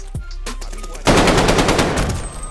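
Rapid automatic gunfire rattles loudly in a Call of Duty-style Search and Destroy match, a burst beginning after a few scattered shots and continuing as a dense, close fusillade.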